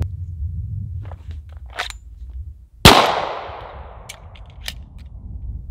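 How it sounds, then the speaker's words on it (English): A single sharp, loud shot from a Springfield 1911 Range Officer pistol at a shooting range, followed by a fading ring and a few faint clicks and metallic clinks. "I'm going to run 3 mags this time, 1 Springfield and 2 mec-gar mags."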